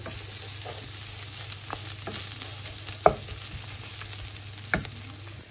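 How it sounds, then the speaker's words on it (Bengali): Mushrooms fry in a pot with a steady, close sizzle, broken by a few sharp scrapes and clinks of stirring, and no one speaks. "আমি আরেকটা পাতিলে এখন মাশরুম দিয়ে নিব খুবই সিম্পল ওয়েতে"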